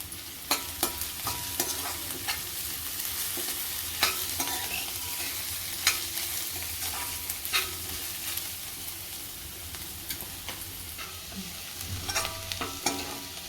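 Onion sautés with ginger garlic paste in a pan for dal palak, a quiet steady sizzle punctuated by repeated sharp spoon scrapes and taps against the pan, no one speaking.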